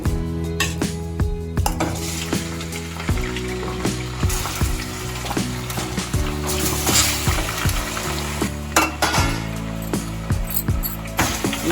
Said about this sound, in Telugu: టమాటా ముక్కలు వేసేసుకుందాం.